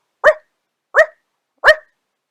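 A storyteller imitates a dog's bark with three short, sharp, evenly spaced yelps, loud and close, with silence in between.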